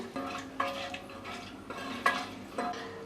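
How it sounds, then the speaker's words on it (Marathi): Metal utensils clatter and scrape against a pan as whole spices are stirred, with a few sharper clinks standing out, fairly quiet and close. "इथे मी खडा मसाला घेतलेला आहे तो घालूया थोडासा परतून घेऊया"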